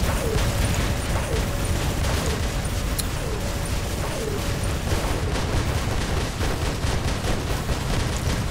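Robot gunfire in the video game War Robots: loud, sustained rapid bursts of weapon fire and impacts, a dense continuous barrage throughout.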